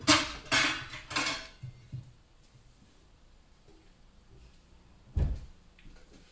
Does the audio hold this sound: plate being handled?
yes